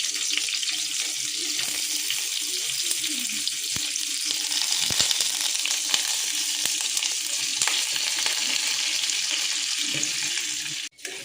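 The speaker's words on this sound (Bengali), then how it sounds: "তেলটা গরম হয়েছে, মশলাগুলো সব একটা একটা দিয়ে ভাজা হবে।" Chopped onion, green chili and beans fry in hot oil in a pan, giving a steady, close hiss and crackle that runs without a break and fades out at the very end.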